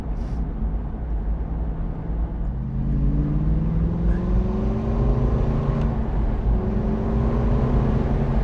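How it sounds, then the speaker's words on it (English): An Aston Martin V8 Vantage Roadster with a single-clutch transmission accelerating hard, its engine note climbing steadily, briefly pausing at a gear change, then rising again, loud and continuous from inside or near the car. "It's just that little pause where you change gear. That's kind of indicative of a single clutch transmission."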